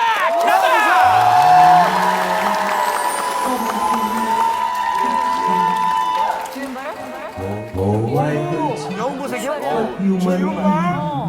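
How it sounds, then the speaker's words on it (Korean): A TV talent-show studio audience cheers and applauds to welcome a performer. Dense, loud crowd noise carries whoops and chatter throughout, and voices and music-like tones rise over it at times. "큰 박수로 해주시기 바라겠습니다."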